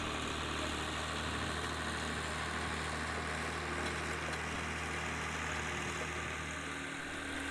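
A David Brown 1594 tractor engine runs steady at modest revs while ploughing a field with a Dowdeswell DP8 plough, a continuous, even low drone with no talk.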